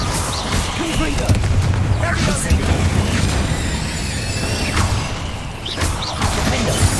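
The Confringo explosive spell goes off in the game Hogwarts Legacy with loud, repeated booms and crashing blasts. Rumbling impacts are layered over game voices and action noise.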